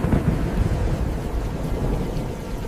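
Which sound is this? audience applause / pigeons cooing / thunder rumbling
thunder rumbling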